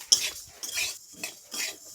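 A spoon stirs and scrapes masala being fried in a pan for homemade pickle, in three or four short rhythmic strokes. It is quiet and close, with no talk over it.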